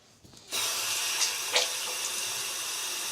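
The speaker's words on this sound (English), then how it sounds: "I gotta wash my hands" Hands rinsed under a running tap, water switching on after a brief quiet start and then pouring in a steady close hiss with small splashes as the hands move beneath it.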